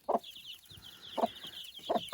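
Chickens cluck in short, bright bursts spaced about a second apart over a quiet background of faint chirping.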